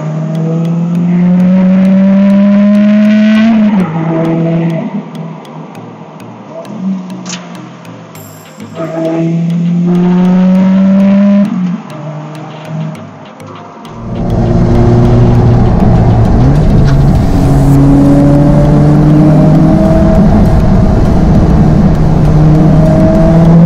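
A Lotus Elise sports car engine, about 217 horsepower, revs hard up close in repeated rising pulls with brief drops between, then settles into a loud sustained roar as the car drives off.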